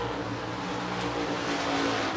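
IMCA stock cars roar around a dirt oval at Hancock County Speedway, a dense, continuous engine drone from the racing pack with no voices.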